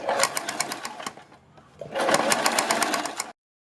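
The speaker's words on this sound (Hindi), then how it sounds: "इसके बाद हम सबसे पहले अपने नेक के किनारे पर एक सिलाई लगाएंगे।" A sewing machine stitching along the neck edge of a kurti, rapid rhythmic needle clatter in two bursts with a short pause between them, close and fairly loud.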